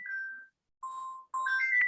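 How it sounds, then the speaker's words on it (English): A phone's ringtone chimes in a lecture room, a short tonal melody that plays, pauses briefly, then returns twice, clear and fairly close with no talk over it. "Just give me a second. I answer the phone."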